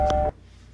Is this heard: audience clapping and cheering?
no